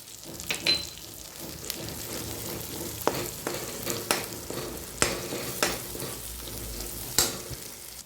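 Spiced masala of red chilli, coriander powder and turmeric fries in oil, releasing a steady close sizzle. A spoon stirs through it, adding scattered scraping taps over the hiss.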